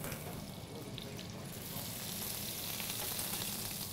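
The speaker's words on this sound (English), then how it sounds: "we've got our butter in our pan, and we're just going to caramelise the veal chop" A bone-in veal chop sears in melted butter in a frying pan, giving a steady, close hiss and crackle that grows slightly brighter and louder toward the end, with no talking.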